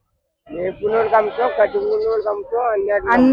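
Sheep and goats at a livestock market where animals are bought for meat, loud close bleating in a continuous run of wavering calls that fills nearly the whole stretch after a short silence.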